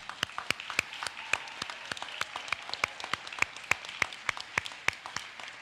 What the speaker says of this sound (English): we're going to give everybody a round of applause